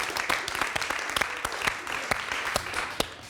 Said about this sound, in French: On peut l'applaudir, Mélissa.